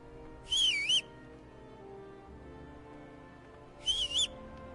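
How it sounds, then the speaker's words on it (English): A two-note rising-falling whistle sounds twice to call a horse in Kingdom Come Deliverance, clear and fairly loud over a low in-game ambient hum, with a long quiet gap between the two calls. "I wonder if there's a way that for me to call my horse. Oh, whistling."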